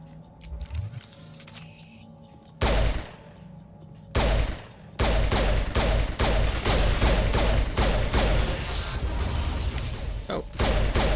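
Rapid gunfire in the Mass Effect 1 video game, short bursts at first and then sustained loud automatic shooting with sharp repeated cracks, brief pauses between volleys.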